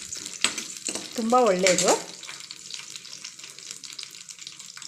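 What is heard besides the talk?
garlic and ginger frying in a pan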